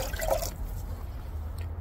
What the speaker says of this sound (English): Next, let's just take our coffee mug, pour in our water,